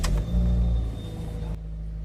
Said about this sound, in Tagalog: start ko na itong makina